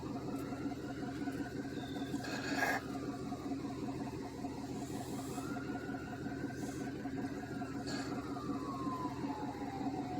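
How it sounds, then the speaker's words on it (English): A faint ambulance siren wails, rising and falling twice in the distance over a constant engine hum, with a few brief clicks. "Oh, it's an ambulance."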